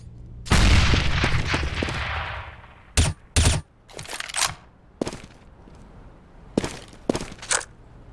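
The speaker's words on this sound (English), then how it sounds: "Grenade out." A loud grenade blast in Counter-Strike erupts close up, then its long rumble fades over a couple of seconds. Several sharp gunshot cracks and shorter bursts follow in quick succession.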